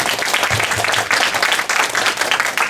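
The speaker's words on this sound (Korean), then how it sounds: "여러분 큰 박수로 맞이해 주시기 바랍니다." Audience applause at a school author-meeting event welcoming a novelist, dense steady clapping from a room of students throughout, fairly loud and continuous.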